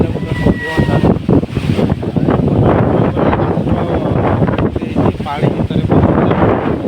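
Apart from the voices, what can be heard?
strong wind of Cyclone Dana at Dhamra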